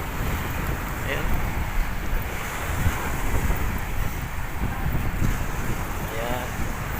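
Strong waves on Manila Bay at Dolomite Beach, heard as a steady, rough wash of surf with wind buffeting the microphone throughout the seven seconds.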